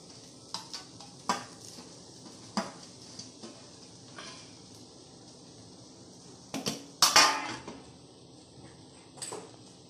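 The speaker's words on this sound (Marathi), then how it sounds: "आता हे बटाटे आहेत ना ते याच्यामध्ये मिक्स करून घ्यायचे." Boiled potatoes being stirred and mashed together with spices for batata vada, with scattered soft scrapes and a few sharper clinks of a utensil against the pan or bowl in a quiet kitchen, without any talking.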